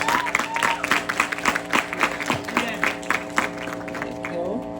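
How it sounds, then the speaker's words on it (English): Graduates at a high school graduation ceremony applaud themselves with loud, dense clapping from a large crowd, while sustained music plays underneath. "Now, graduates, please give yourself a round of applause for making it thus far"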